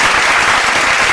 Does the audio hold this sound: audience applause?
yes